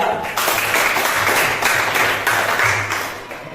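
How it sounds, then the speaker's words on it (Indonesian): A classroom group gives steady applause to a discussion group, many hands clapping together at close range for a few seconds with a slight swell near the end. "kita berikan aplaus dulu kepada kelompok Tidak"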